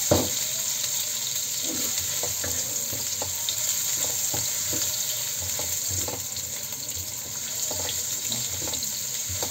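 Shrimp and squid fry in a pan with a constant loud sizzle, and the close scrape of stirring comes through at irregular intervals. No one speaks.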